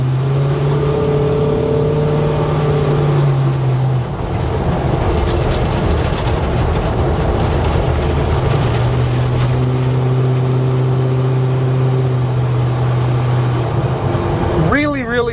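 A 1970 GMC K10 long bed pickup truck drives down a road, its engine holding a steady loud drone with gear shifts and tire rumble, heard from inside the cab under no talking.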